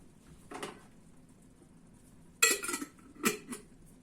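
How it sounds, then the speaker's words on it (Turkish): Dishes and cutlery are unloaded from a dish rack in a quiet kitchen: a few scattered clinks and clatters of plates and metal utensils, with short gaps of near silence between them. "Bulaşık sepetimi boşaltayım."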